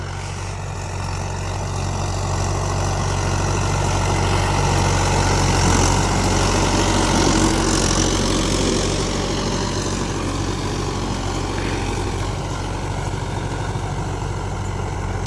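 Mahindra tractor engine running steadily in a field while ploughing, a continuous heavy low drone with a slight swell and fade, moderately loud and unbroken, no voices.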